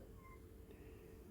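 A house cat gives a single short, faint meow close by in a quiet kitchen, with a low background hum beneath.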